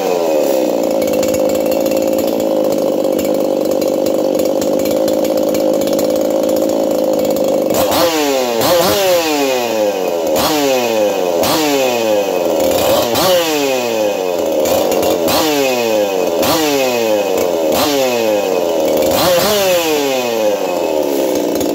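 A freshly built 4910 chainsaw runs on a bench, idling steadily for several seconds before a series of sharp throttle blips rev it up and back down repeatedly, loud and close.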